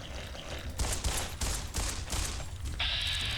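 A burst of gunfire in Fallout: New Vegas, five or six evenly spaced loud shots in steady rhythm, close and alone, ending with a higher mechanical whine.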